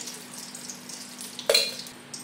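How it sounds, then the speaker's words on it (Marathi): Ghee lands in a hot pan for rava kheer with a quick sharp sizzle burst over a faint background hiss, then settles into quiet frying; close and brief, no talking. "आता आपल्याला चांगलं असं तूप घालायचं आहे।"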